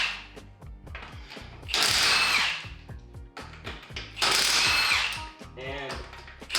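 Power tool whirring in two loud bursts while removing the wheels from a Subaru Forester XT, with short clicks and mechanical clatter between bursts, close up.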